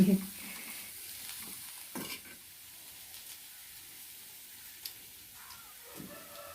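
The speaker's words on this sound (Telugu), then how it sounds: "కారం బాగా పట్టేటట్టు బాగా కలిపెట్టుకోవాలి వేయించుకోవాలి" Leafy greens tossed with chili powder and stir-fried in a pan, a faint steady frying hiss with a few scraping stirs and light knocks, quiet and close.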